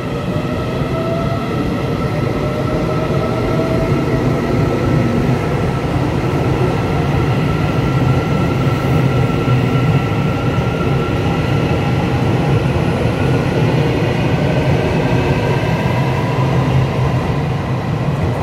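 A Taiwan EMU882+EMU881 second-generation Smile electric multiple unit commuter train runs on the Mountain Line with a steady, loud rolling rumble and a motor whine that rises gradually in pitch.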